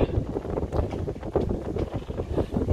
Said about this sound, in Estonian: Tuulekest kuskil 7 meetrit sekundis ehk knotsi.